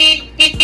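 A Suzuki Raider 150 FI motorcycle's bright, buzzy stock horn sounds briefly, fades, then gives two short honks close by.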